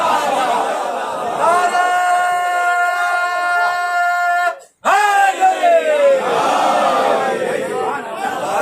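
A large congregation at a Shia majlis for the martyrs of Karbala roars a chanted religious slogan in unison, loud massed voices sustained for several seconds, breaking off briefly and then surging again in a second call.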